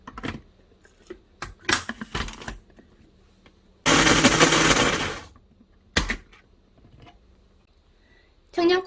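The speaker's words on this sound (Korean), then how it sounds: "다시 한번 믹서기로 갈아볼게요" A kitchen blender grinds soaked dried chili, garlic, ginger and onion for gochugaru kimchi, with one loud whirring burst of about a second and a half between short clatters and knocks.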